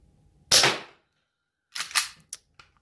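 A propane-powered WE Glock 19 airsoft pistol fires a sharp, loud shot, followed a second later by a quick cluster of three or four softer pops and hisses of gas.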